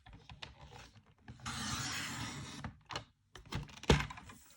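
A paper trimmer slices through cardstock while making a card, giving a steady sliding cut of about a second, then a few sharp clacks and thumps as the blade and paper are handled up close.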